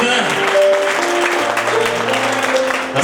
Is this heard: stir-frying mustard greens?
no